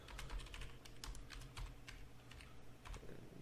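Rapid typing on a computer keyboard, a close, busy run of light key clicks with uneven rhythm and no talking.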